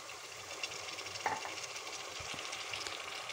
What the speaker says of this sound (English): So now to this I will be adding our tomatoes.